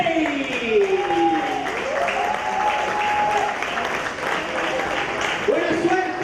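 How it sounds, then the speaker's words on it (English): A crowd applauds Spain's coaching staff at an under-19 European football match between Italy and Spain, giving steady, sustained clapping throughout while an announcer talks over it. "a big applause for the coaching staff"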